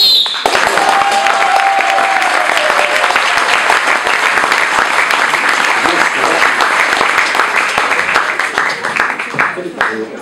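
An audience at a Swiss comedy evening in Willisau breaks into loud, sustained applause that begins abruptly and holds dense and steady before slowly thinning out, with a brief whistle at the start.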